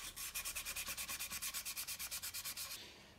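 Light sanding of a surface before painting, a steady rhythmic back-and-forth rasp of about twenty even strokes that stops near the end, with no voices.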